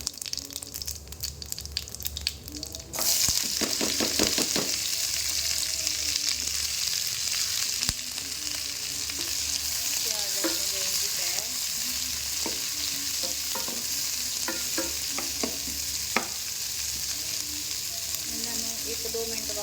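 Onions tipped into cumin frying in hot oil for a Punjabi okra dish, a sudden burst of loud sizzling that settles into a steady fry with scattered stirring clinks and scrapes.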